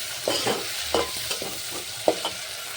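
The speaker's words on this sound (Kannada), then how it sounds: "ಸಾಸಿವೆ ಜೀರಿಗೆ ಕರಿಬೇವು ಉಳ್ಳಾಗಡ್ಡಿ ಪುಟಾಣಿ ಹಾಕಿ ಈಗ ಫ್ರೈ ಮಾಡ್ಕೊಳತ್ತೀನಿ" Mustard seeds, cumin, curry leaves, onion, roasted gram and tomato frying in a pan for upma, heard as a soft steady sizzle with several spoon stirs and scrapes spaced through it, close by and with no talking.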